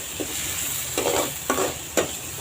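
Onions fry in a pan for a chicken dish, a steady close sizzle broken by three or four scraping stirs of a spoon against the pan.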